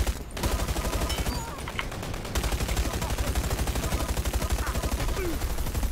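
Dense, rapid gunfire from the first-person shooter Dirty Bomb, with sustained automatic bursts rattling loudly and almost continuously across the whole stretch, briefly thinning out in the middle.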